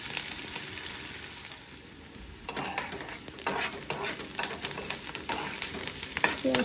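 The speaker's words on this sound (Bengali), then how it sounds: "পেঁয়াজটা আরো অল্প ভাজা হইতে লাগবে।" Onions fry in fish oil in a pan with a loud, constant sizzle, while a utensil scrapes and clinks against the pan again and again, growing busier in the second half.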